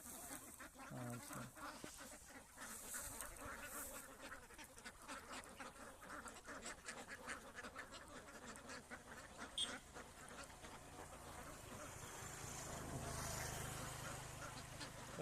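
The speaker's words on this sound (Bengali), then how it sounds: "দেশি হাঁস" Native farm ducks, a flock of about three hundred bathing in water, quack repeatedly at a moderate distance, with scattered voices of people talking nearby.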